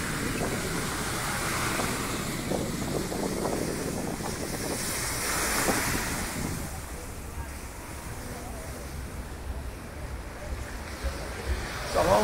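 Ocean surf washes along the beach at Playa Del Carmen in a steady, broad rush, with gusting wind buffeting the microphone throughout.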